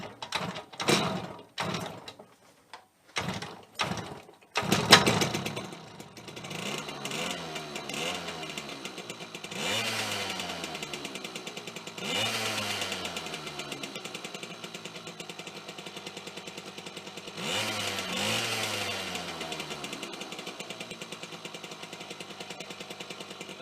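Vintage two-stroke mini bike engine cranked by hand with several short separate pulls, then catching and running with rising and falling revs in a few surges, close and fairly loud.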